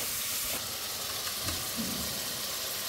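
Masala sizzles steadily in ghee for vegetarian sago khichuri, a continuous broadband hiss with faint stirring scrapes and small pops, close and moderately loud, with no talking.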